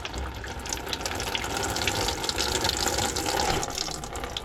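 Diesel fuel draining and spattering from a Chevy Duramax LP5 fuel filter housing, a steady close liquid pour and splash that fills the whole stretch without talk.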